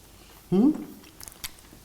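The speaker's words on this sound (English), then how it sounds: "I'm going to try a little bit of your delicious courgette salad there. Crunchy and still very nice." A bite into crunchy courgette salad gives a sudden loud crunch, followed by a few softer chewing clicks that fade over the next second.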